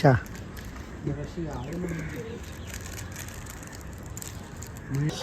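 Pigeons cooing in a flock, the low throaty coos repeating near and clear over outdoor background noise.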